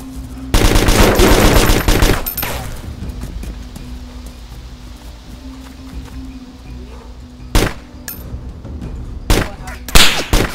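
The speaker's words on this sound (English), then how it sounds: "Dude, there's shots everywhere, man." Gunshots in the video game DayZ: a dense burst of rapid automatic fire up front, then a quieter stretch of ambience, followed by several separate sharp shots near the end, fairly loud and close.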